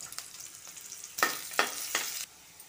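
Green chillies drop into hot oil with sliced onion and burst into a few short, sharp sizzling hisses over a quiet background, close by and brief.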